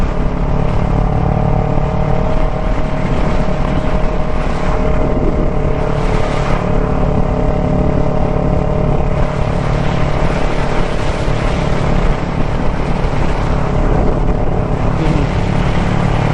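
A Nissan Z car cruises down the highway at about 50 mph, its engine drone and road roar loud and constant from inside the cabin, with wind noise and no pauses.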